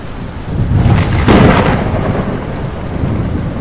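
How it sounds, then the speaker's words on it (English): Heavy rain pours steadily while a loud, close thunder rumble swells and rolls through the middle, then fades back into the constant downpour. "The rain began before dawn, falling in heavy silver sheets that obscured the moon and stars."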